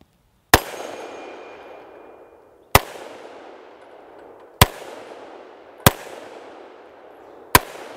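Five loud, sharp gunshots from an FK BRNO 7.5 Field Pistol fired outdoors, spaced about two seconds apart, each crack followed by a ringing echo that decays before the next shot.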